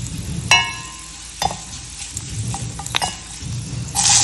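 Dried red chillies and fenugreek seeds frying in oil for onion rasam, with a soft steady sizzle broken by a few sharp clinks and scrapes of a spoon against the pan.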